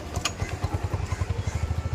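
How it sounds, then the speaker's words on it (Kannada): Motorcycles passing on a road near Jog Falls in Karnataka, a steady low engine drone with rhythmic pulsing, fairly close and continuous for a couple of seconds with no talk. "ಕಾರಿಲ್ಲ, ಬೈಕ್ಗಳು."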